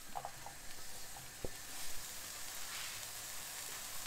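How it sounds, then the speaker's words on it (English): Onions and peppers frying in leftover keema fat in a pan, a close, steady sizzle with a few soft stirring knocks early on, no talking. "I just wanna get me onions in and me peppers first."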